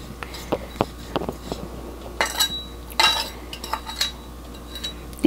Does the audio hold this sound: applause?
no